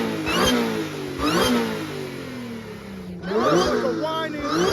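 A supercharged Audi at a car meet revs repeatedly in short bursts with a rising whine, about three sharp blips close by, alongside a few voices.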